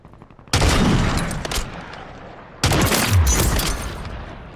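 Kar98 rifle shots in a video game, two loud, heavy blasts about two seconds apart, each ringing out with a long booming tail, close and forceful.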